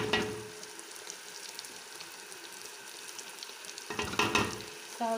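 Meat frying in a pan for a Turkish bean stew, a soft continuous sizzle that swells into louder crackling and scraping bursts near the end, with no talking.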